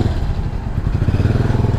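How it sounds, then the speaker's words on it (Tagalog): Motorcycle engines in traffic crowd around a Yamaha Aerox S155 scooter rider, a steady low, loud rumble with a pulsing idle throb close by. "nakulong tayo dito sa mga walang hiyang motor na to"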